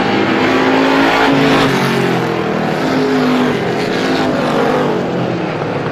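Race cars roar down the back stretch of Star Speedway on the final lap, a loud continuous engine drone with steady pitch, heard close and without talk.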